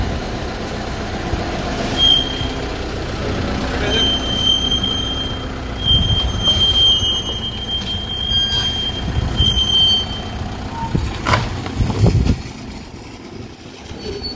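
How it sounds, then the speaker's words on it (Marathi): A car is driven out and eased down a steep slope, its engine rumbling low while sharp, high brake squeals cut in repeatedly over about fourteen seconds, growing busier toward the end, with no talking. "ऋषिकेशजी ड्रायव्हर आता गाडी काढताय बाहेर, बघू शकता तुम्ही"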